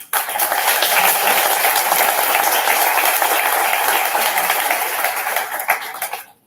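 An audience at a book presentation in Cagliari breaks into steady, full applause welcoming the author, dense clapping holding evenly before tapering off near the end.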